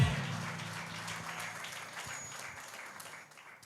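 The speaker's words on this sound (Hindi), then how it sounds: "ताली बजा करके प्रभु को धन्यवाद।" A church congregation claps together in worship, a loud burst at the start settling into steady, moderately loud clapping that continues and slowly fades, with no speech over it.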